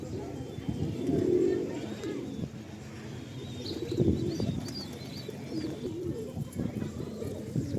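Low, soft pigeon coos repeat a few times among rustling and background murmur, with a faint chirp now and then.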